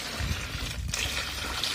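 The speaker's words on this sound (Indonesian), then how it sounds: "ini air cucian beras kita masukkan ke dalam kaleng ya teman-teman" Rice washing water pours steadily into a large can of roughly ten litres, a continuous close splashing trickle with a brief dip in the middle.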